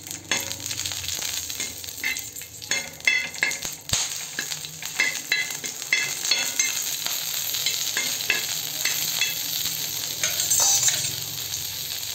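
Green lavangi chillies roasting in oil in a pan, a steady close sizzle and crackle with occasional stirring scrapes and clinks throughout.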